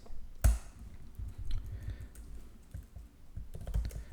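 Typing on a computer keyboard while writing HTML code: soft, close key clicks in irregular quick runs with a sharper tap near the start and another near the end, faint against a quiet room.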